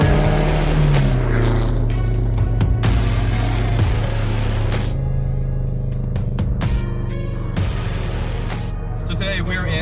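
A 1999 Subaru Legacy B4 with a twin-turbo 2-liter boxer four drives along, its loud steady engine drone shifting pitch under a layer of music.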